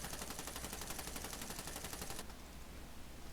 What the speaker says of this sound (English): The delay between the first gunshot and the beginning of the clip, take that out so that it's only the gunshot in the first second.